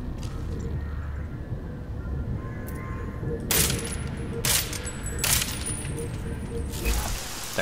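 Silenced gunshots in the video game Deus Ex: Mankind Divided: three muffled, sharp cracks spaced about a second apart over a steady low in-game ambient rumble, with no talking.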